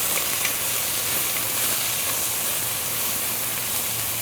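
Onions and mushrooms sauté in a little oil in a Dutch oven on a hot side burner over high heat, giving a loud, steady, bright sizzle that carries on unbroken throughout.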